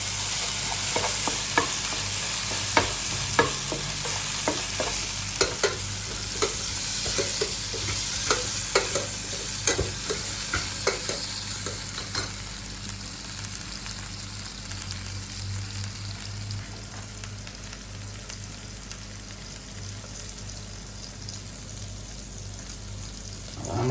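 Okra sizzles steadily in a hot pan for a South Indian thoran, with frequent scraping stirs clattering through the first half before settling into a softer, even frying hiss; no voices.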